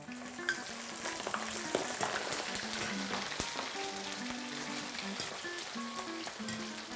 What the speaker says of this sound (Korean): 그럼 이거 한 번 더 튀기고